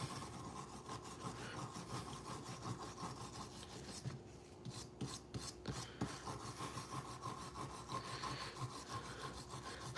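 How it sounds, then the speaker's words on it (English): Wire brush scrubbing a part from a Penn 8500 spinning reel wetted with acetone, a steady close rasping in quick back-and-forth strokes with a brief pause midway. "Let's try the wire brush and see what it says."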